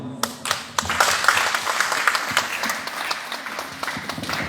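Applause from an audience at a Hindu dharma discussion gathering, a few seconds of scattered, fairly thin clapping with no talk over it.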